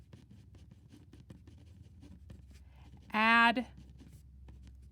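Faint, scratchy marker strokes on a board during an algebra lesson, light repeated ticks under a teacher's brief spoken word.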